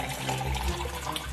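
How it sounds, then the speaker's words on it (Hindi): Water pours steadily into large glass boxes during a children's competition round, a continuous splashing fill that runs throughout at close range with no talk over it. "और इन डब्बों में डाला जाएगा पानी।"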